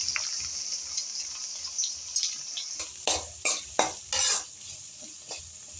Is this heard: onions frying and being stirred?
yes